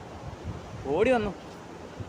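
Sea waves rolling onto the beach at Thalassery, Kerala, a steady washing surf mixed with wind buffeting the microphone, while a voice briefly calls out midway.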